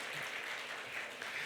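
Church congregation applauding after a blessing during a sermon, a steady wash of many hands clapping, moderately faint and continuous for the whole moment.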